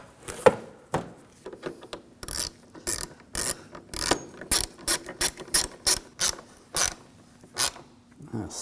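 A hand ratchet snugs down bolts on the HID ballast control module of a 2007-2013 BMW 328i, delivering short repeated bursts of close clicking clicks in an uneven rhythm with brief pauses between strokes.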